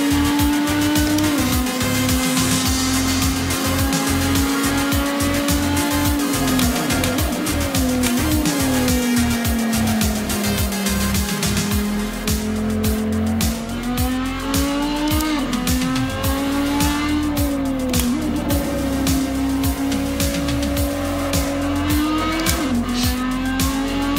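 A Lamborghini race car in a sim racing game roars loudly and continuously through gear changes, with repeated tire squeals and skids and no voices over the engine.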